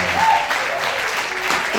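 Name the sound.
audience applauding a guitarist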